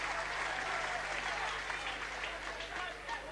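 Applause and warm crowd noise ring out at a 1997 youth football match between Sligo Leitrim and Leeds United, a steady patter of many hands close by that gradually fades, with a commentator's voice over it.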